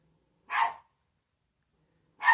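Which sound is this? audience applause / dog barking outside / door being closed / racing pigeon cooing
dog barking outside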